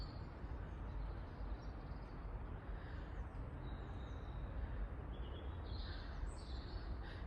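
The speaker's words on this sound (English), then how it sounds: "All you can hear is the birds." Faint birdsong in the distance over a steady outdoor rumble, with occasional brief chirps and calls rising above the background.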